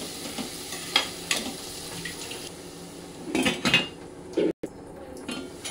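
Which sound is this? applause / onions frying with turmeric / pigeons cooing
onions frying with turmeric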